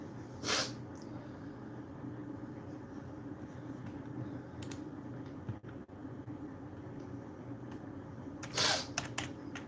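A few sharp sniffs break through a quiet room, spaced irregularly with long pauses between them.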